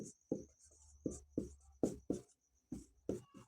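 Chalk or marker strokes on a board during a maths lesson, a series of short scratchy taps and scrapes at an uneven rhythm, close and fairly quiet with no talking.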